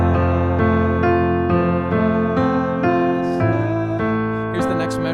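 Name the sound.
piano playing the vocal melody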